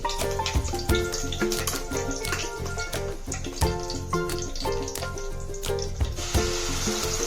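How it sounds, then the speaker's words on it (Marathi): Curry leaves dropped into hot oil for a Maharashtrian prawn curry tempering, giving a loud, crackling sizzle with sharp pops and clatter of utensils throughout, no voices. "आता कढीपत्ता टाकला तेलामध्ये"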